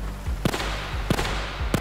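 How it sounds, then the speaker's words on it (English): Gunfire from illegal hunting in GTA 5, three sharp bangs spaced roughly every 0.6 seconds, each followed by a brief low thump, over a steady low rumble with no talking. "And I hear the gunshots. It's from up there."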